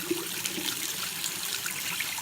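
Water runs steadily from a sink tap fed by a shower pump, a loud hissing splash with a faint low pump hum beneath it.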